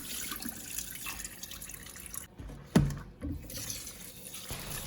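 Water is poured off rinsed rice in a bowl, a soft continuous trickle and splash with one louder slosh midway, close and fairly faint.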